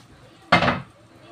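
Carrots and cabbage tipped into a pan of cooking macaroni, landing as a single short clattering burst with a brief hiss that fades within a moment, fairly close.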